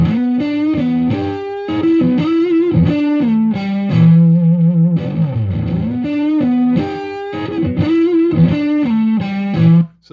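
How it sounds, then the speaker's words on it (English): Electric guitar runs through a Tonex capture named Hot Deluxe, modeled on a Fender 65 Deluxe Reverb amp pushed into drive. Loud, close, distorted chords and single-note phrases ring with sustained notes and a bend, with no talking. "this one's called Hot Deluxe. It's a drive character. It's based on the Fender 65 Deluxe Reverb."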